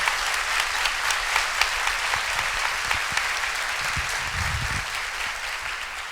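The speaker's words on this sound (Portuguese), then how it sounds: "Então aplauda Jesus." A church congregation claps steadily and enthusiastically for several seconds, a dense, continuous wash of applause with no voices rising above it.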